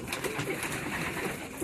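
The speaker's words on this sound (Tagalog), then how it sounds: "Meron na nga kaming dalawang ibon na klinak ni Palawan Lop" Racing pigeons cooing during a live derby, soft repeated coos set against a fairly quiet, steady background without speech.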